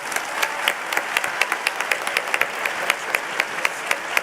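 An audience applauds at a Tecnológico de Monterrey student event. Dense, steady clapping continues without a break, with no voices standing out.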